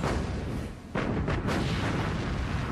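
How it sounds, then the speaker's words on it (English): Naval guns of the battleship Bismarck and the cruiser Prinz Eugen fire in a dense broadband roar, with a sharp blast near the middle and further booms close behind, all loud and sustained. "Bismarck and Prince Eugen rapid fire their main and secondary armament."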